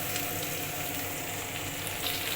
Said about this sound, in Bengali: আমি এখানে পেঁয়াজ, রসুন, আদা এগুলো এর মধ্যে ভেজে নেব।